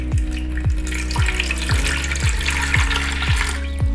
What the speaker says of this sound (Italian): io ho messo acqua minerale, sono 500 mg.